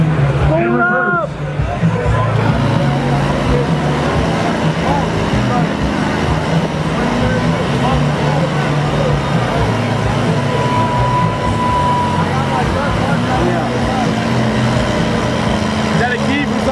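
A truck's engine roars steadily in reverse at a mud bog at Iron Horse Mud Ranch during Super Bog 2019, a loud continuous rumble with a brief whining rev near the start, and voices talking underneath.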